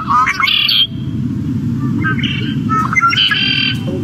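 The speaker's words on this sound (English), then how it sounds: "I'm sure you've heard the song of the red-winged blackbird." Red-winged blackbird song from a wetland, with repeated bright trilling bursts over a steady low background rumble, sounding fairly close and loud.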